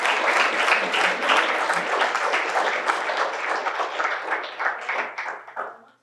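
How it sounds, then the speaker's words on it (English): Enthusiastic applause at a police swearing-in ceremony in Sault Ste. Marie. It is a dense, loud burst of many people clapping that holds steady, then thins into scattered claps and fades out near the end. "Big round of applause, please."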